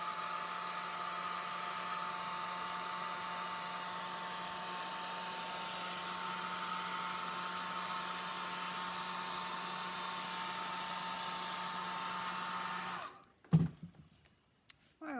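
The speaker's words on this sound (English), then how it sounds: "So here goes my hair dryer." A hair dryer blows on an alcohol ink painting with a loud, steady whirring drone for about thirteen seconds, then cuts off abruptly, leaving a few handling knocks.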